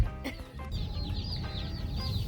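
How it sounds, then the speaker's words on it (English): Young chicks peep and chirp in a backyard brooder, many thin high calls overlapping continuously at close range, with low handling noise underneath. "In go the chickens."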